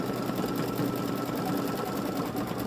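A Baby Lock Solaris Vision embroidery machine stitches a summer garden gnome design, giving a steady, fast mechanical whir with an even rapid rhythm. It runs close and alone, with no talk.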